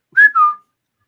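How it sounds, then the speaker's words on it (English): A clean two-note whistle, a higher tone gliding into a lower sustained one, sounds up close and alone, then stops into silence. "hear a whistle in your mind."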